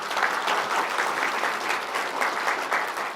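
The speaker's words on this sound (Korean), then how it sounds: "여러분 다시 한번 큰 박수 부탁드립니다" Audience applause at the Korea Institute for Industrial Economics 50th anniversary international conference: steady, dense clapping from a large crowd in a hall, close and sustained throughout without a break.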